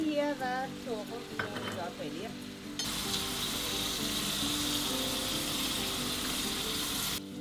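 Chicken pieces frying in a pan with diced onion just added, a steady loud sizzle filling the clip after a brief stir of clattering and faint tones at the start.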